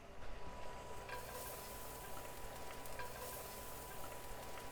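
Garlic and red pepper flakes sizzling in olive oil in a pan, a steady soft crackle and hiss with faint light clinks, quiet and continuous with no talking.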